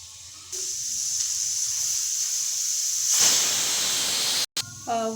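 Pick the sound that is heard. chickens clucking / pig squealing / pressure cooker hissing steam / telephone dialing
pressure cooker hissing steam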